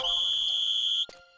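A single loud, sustained high-pitched whistle blows steadily for about a second, then cuts off abruptly, followed by brief faint clicks.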